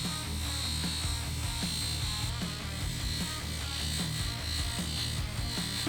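A flap wheel buffing a metal part, making a continuous close whirring, grinding hum with slight rhythmic fluctuations as it works evenly across the surface.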